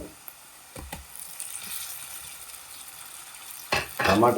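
Ginger paste and chopped tomato sizzle and get stirred in a pan of frying fish curry, a soft hissing fry that swells into louder crackling and scraping at the end.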